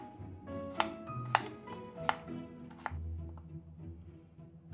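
A knife cuts a peeled yellow potato into chunks on a cutting board, four or five distinct close chops with short pauses between.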